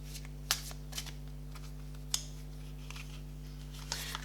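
Tarot cards being shuffled in a few quick riffling bursts, close and crisp, over a steady low electrical hum with no talking.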